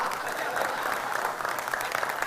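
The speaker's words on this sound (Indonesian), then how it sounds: "Tepuk tangan tuh yang tua." Audience applause for the oldest speaker at a leadership training event, a steady, dense clatter of many hands clapping at moderate volume, continuous and fairly even throughout.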